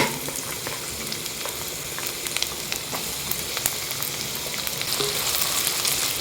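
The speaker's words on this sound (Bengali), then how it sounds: "পেঁয়াজটাকে আমি একটু লাল লাল করে এখন ভেজে নেব" Chopped onions fry in hot fish oil for a Bengali katla fish curry, a dense, even crackle and hiss that builds slightly, with no voices.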